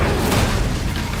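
The Incendio fire spell going off in Hogwarts Legacy: a loud, dense burst of roaring fiery noise filling the whole short moment, with no quiet gap.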